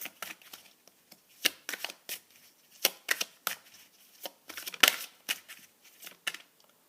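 Angel oracle cards being shuffled by hand, close and crisp, in a series of sharp riffling bursts and slaps with short pauses between them.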